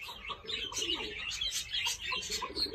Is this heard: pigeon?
yes